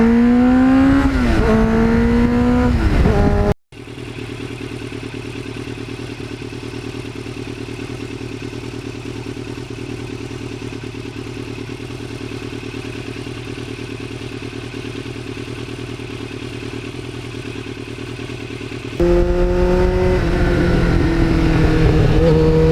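A 1989 Kawasaki GPX750R Ninja, a former track bike fitted with an aftermarket muffler, idles steadily and loudly for a long stretch, with revving before and after the steady idle.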